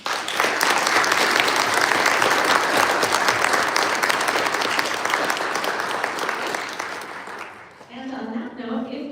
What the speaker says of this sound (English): I'd like to give a big round of applause for the Shermans.